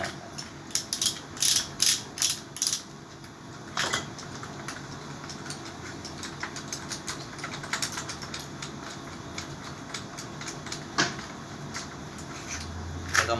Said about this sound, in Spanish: Sacamos todos estos tornillos.